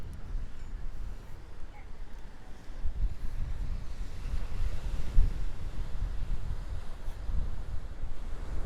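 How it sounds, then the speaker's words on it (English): Wind blowing by the sea, buffeting the microphone in a continuous low rumble that swells and fades over a soft wash of surf, with no speech. "A bit windy down here, guys, sorry."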